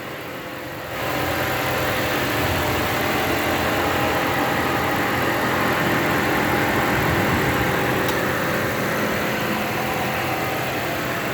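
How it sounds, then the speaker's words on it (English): A 2008 Dodge Ram 1500 SLT's 4.7-liter V8 idles steadily with a low, even rumble close by, starting abruptly and running without change throughout. "Just wanted you to be able to get a listen in on that V8"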